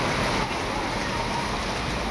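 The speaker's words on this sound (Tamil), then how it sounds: "செம்மையாக மழை வருது." Heavy rain pours down over Bangalore in a dense, steady hiss, loud and close, with no break in the downpour.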